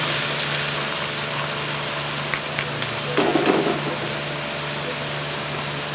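Chopped onions frying in ghee in a kadai give a steady, even sizzle that stays constant throughout, with a low hum underneath and a few faint clinks.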